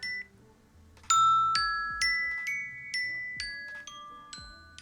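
A phone alarm rings out a repeating melody of clear bell-like chimes, about eight evenly spaced tones with ringing tails, played alone and close.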